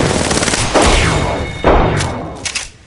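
Weapons fire in the battle royale game Apex Legends: loud, close bursts of rapid gunshots, two main volleys with sharp crackling tails, fading to quieter shots at the close.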